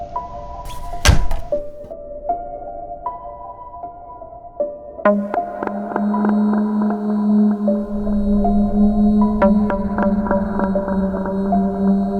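A door being locked at night in a haunted room, heard as one heavy thunk near the start, followed by a steady low droning hum with no voices.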